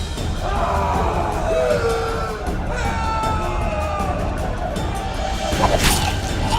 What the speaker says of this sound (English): One person finds the courage to face the raging crowd.